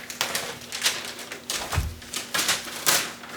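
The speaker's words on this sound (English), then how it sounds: "Going to take 9-inch paper, 1-inch tape, and wrap this" Masking paper, 9-inch wide, and 1-inch tape being pulled and wrapped by hand during prep for airless spraying: a run of crisp papery crinkles and tape rips in quick irregular bursts, close and fairly loud, with a soft thump midway.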